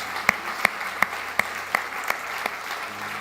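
A church congregation applauds, a soft bed of clapping under seven sharp, evenly spaced loud claps that beat a steady rhythm, fairly close.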